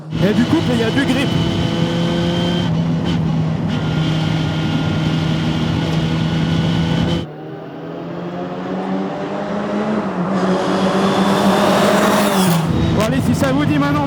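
A small Ford-engined vintage race car in a video game drones steadily with harmonic revving, shifting pitch midway and climbing again, loud and continuous throughout.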